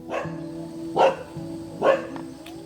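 Dogs bark at a Punoong family's village house in rural Mondulkiri, Cambodia, with three sharp barks about a second apart rising over steady background hum, fairly close and alone without talk.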